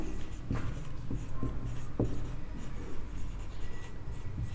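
Chalk or marker writing on a board during a physics lecture, a steady run of short scratchy strokes and taps with a few sharper clicks, close and fairly loud, with no speech over it.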